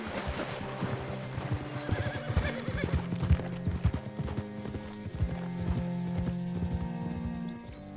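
Horse hooves clip-clop in a steady rhythm in the video game Red Dead Redemption II, close and clear, with occasional snorts and whinnies over a low musical background.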